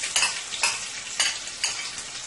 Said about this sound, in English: my oil is pretty hot here now, so I am going to go ahead and I am going to add 1 large chopped onion